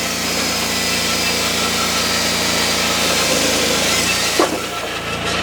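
A Wallenstein WP1624 hydraulic wood processor runs close by with a steady engine drone and hum while cutting a log, and a brief knock comes near the end.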